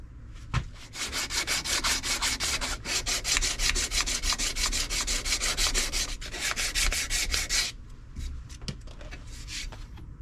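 Sandpaper rubs steadily back and forth on an old, discarded shop hammer, giving a close, loud, evenly paced rasping stroke that keeps going for several seconds before easing off, with no talk.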